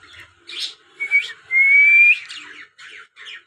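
A pet parrot whistles nearby, giving a few short chirpy notes, then a long, clear sustained whistle, followed by more brief bursts.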